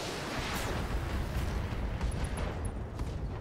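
Mech weapons fire together in the Roguetech battle game, a dense roar of booming blasts and bursts that overlap into a sustained barrage, loud and close with no pauses.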